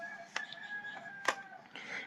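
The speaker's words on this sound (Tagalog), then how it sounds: "May mga manok." Chickens in a farmyard give a few short, sharp clucks and calls over a faint steady tone, with three distinct bursts spaced across a brief moment.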